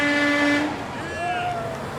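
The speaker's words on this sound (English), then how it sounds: "A lot of people, when they drive by, they honk horns." Along the roadside of a United Auto Workers solidarity march in Greater Cincinnati, a passing vehicle lets out a long, loud horn blast, then fainter horn tones bend in pitch as traffic rolls by.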